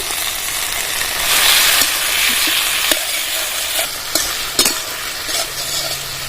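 Chili chicken sizzling in a pan with soy, tomato and chili sauces while a spoon stirs it, a steady loud frying hiss broken by occasional sharp scrapes and clicks of the utensil.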